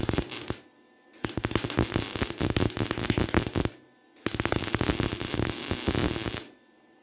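A small MIG welder lays beads on a firewood trailer, making three long bursts of dense crackling, buzzing arc noise separated by short silent pauses, loud and close with no talk.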